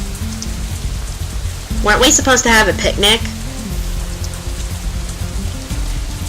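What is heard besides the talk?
rain falling outside, from the video game Katawa Shoujo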